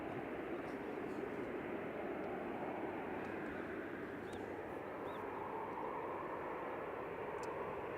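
Ryanair Boeing 737-800 arriving at Manchester Airport, a steady broad jet engine roar at middle distance, even and unbroken throughout, with faint outdoor sounds above it.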